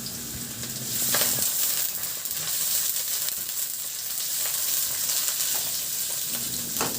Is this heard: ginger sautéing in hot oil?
yes